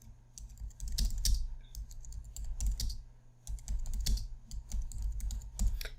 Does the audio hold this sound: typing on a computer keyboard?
yes